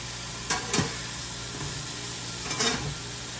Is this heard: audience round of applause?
no